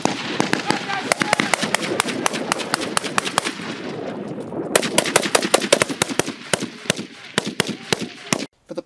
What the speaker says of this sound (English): the enemy position is going to engage and bring the point team under effective enemy fire